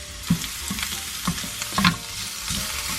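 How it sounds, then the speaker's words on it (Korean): Carrots stir-fried in a pan with a pinch of salt, a close steady sizzle broken by repeated scraping stirs at an irregular rhythm, with no voices. "당근을 볶아줍니다."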